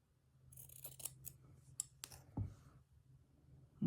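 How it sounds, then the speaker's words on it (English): Scissors snipping through paper to cut out a printed word for vintage embroidery work, giving several quiet, close crisp cuts and clicks with short pauses between them, in a quiet room. "I'll just cut the word pure out for now"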